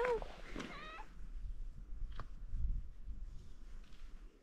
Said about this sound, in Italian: Gatto è il padrone di casa.